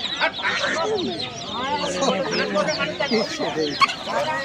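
Native chickens and roosters cluck and call densely at close range in a rural market, a continuous overlapping chorus of busy fowl with voices mixed in.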